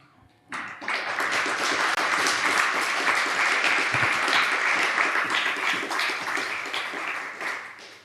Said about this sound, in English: Round of applause for Ishvara and Dorothy.